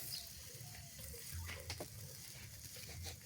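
Oil sizzling on a barbecue grill at a backyard BBQ party, a faint, steady hiss with a few soft crackles and light scraping knocks partway through.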